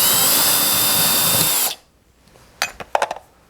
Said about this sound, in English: you take your drill and you just apply a little back pressure to that screw